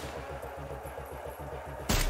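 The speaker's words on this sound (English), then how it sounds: "And I have a silence gun." A suppressed gun in the shooter Trepang 2 fires a rapid automatic burst of muffled, thudding shots in an even rhythm, followed by a louder sharp crack at the end.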